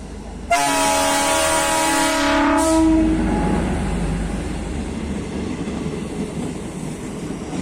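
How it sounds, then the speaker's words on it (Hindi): A passenger train at a station in Bihar sounds a long, loud horn blast on arrival, then rolls on with a steady rumble of wagons over the tracks. "ये जो ट्रेन लगी है ये फारबिसगंज से आई है।"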